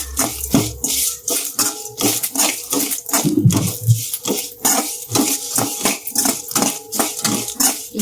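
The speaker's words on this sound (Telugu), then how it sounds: "ఎండుమిరపకాయలు అయితే మంచిగా వేగిపోతున్నాయి కదా, దీంట్లోకి ఒక గుప్పెడు కరివేపాకు కూడా వేసుకున్నాము" Dry red chillies and a handful of curry leaves fry in hot oil for a village-style gongura chutney, giving rapid crackling sputters and sharp pops with a few light utensil clinks, close and busy throughout.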